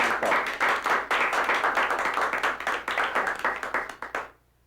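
Audience applause at a card-to-wallet magic performance: a dense, steady burst of many hands clapping that lasts about four seconds and then stops abruptly, with no talk over it.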